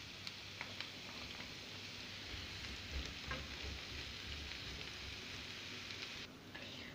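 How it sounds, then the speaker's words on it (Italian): Fennel sizzles in hot oil in a pan, a steady fine crackle like light rain with scattered pops. The frying is soft and even, and a clatter near the end briefly cuts the hiss. "Quando l'olio risulta ben caldo, mi raccomando, versate i vostri finocchi."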